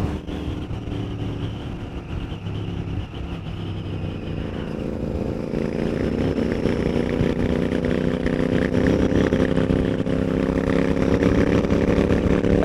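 A Royal Enfield Continental GT 650 motorcycle with a Watsonian sidecar runs steadily nearby, a continuous low rumble that grows slightly louder and fuller partway through.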